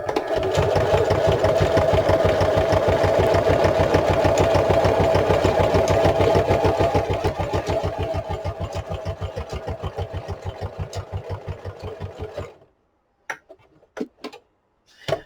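A sewing machine runs a zigzag stitch at stitch length 2 and width around 4, sewing a book spine for a junk journal. It gives a loud, steady, rapid mechanical chatter, slows slightly, then stops near the end, leaving a few isolated clicks.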